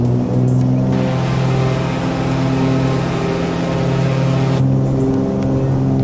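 Twin engines of a Cessna 310R at full throttle in Microsoft Flight Simulator make a loud, steady, droning roar that holds unbroken from start to finish, with no talking.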